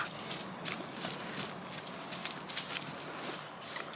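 A horse trots during a riding lesson, its hooves clip-clopping in a steady quick rhythm. The sound is faint and distant, with no talk over it.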